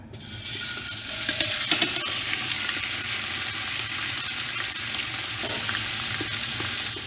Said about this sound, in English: we basically just want to brown our beef